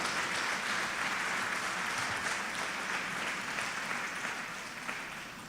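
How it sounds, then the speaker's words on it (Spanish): A church congregation applauds in praise during a sermon, a dense, steady wash of clapping from many hands that holds level for several seconds and then slowly thins toward the end. "Si quiere darle el aplauso al Señor,"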